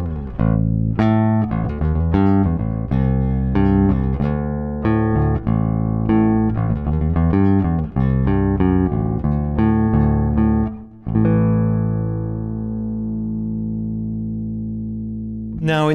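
Guitar picked for a bright top end through a Cloudlifter CL-Zi activator, a run of clear plucked notes and chords, then a final struck chord ringing out and slowly decaying.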